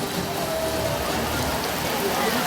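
Heavy rain pouring at a night carnival outdoors in Semarang: a dense, continuous hiss of rainfall on surfaces, loud and steady throughout, with faint background tones beneath.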